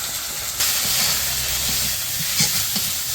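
Ginger-garlic paste with turmeric and chili powder sautéing in a pan: a loud, continuous sizzle and hiss up close, with intermittent scraping stirs.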